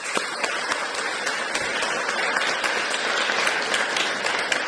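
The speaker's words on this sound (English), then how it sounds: "a final round of applause for the young women as they're ready to step on the" A conference audience gives a steady, full round of applause for young women stepping onto a stage, a dense, even wash of clapping from many hands without talk.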